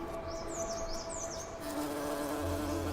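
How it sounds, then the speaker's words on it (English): Hairy mountain bees buzzing close by snow lotus flowers in a warm, wavering drone, with wingbeats rising and falling as insects hover and pass, no voices. "a plant with fur that's visited by hairy mountain bees"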